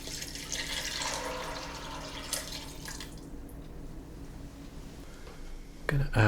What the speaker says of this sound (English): So now just going to add water so we can start cooking these.